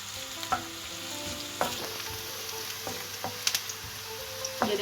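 Onions fry gently in a pan until soft, with a soft continuous sizzle and a few scattered clicks and spoon taps against the pan at irregular intervals.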